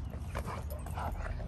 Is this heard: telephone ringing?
no